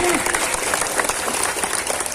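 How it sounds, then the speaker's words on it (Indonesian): A crowd at a large Islamic religious gathering in a village claps in dense, sustained applause, steady and close throughout the short stretch. "Tepuk tangan dulu dong buat panitianya"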